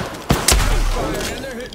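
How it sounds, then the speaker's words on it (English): Gunfire in the video game Apex Legends, two sharp close shots in quick succession followed by a lingering rumble and softer game sounds trailing off. "They're shooting at me."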